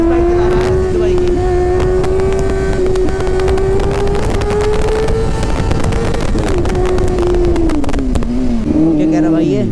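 Kawasaki Ninja H2R motorcycle riding and revving, a loud sustained engine drone whose pitch rises and dips with throttle, wind rushing over the microphone and people talking over it.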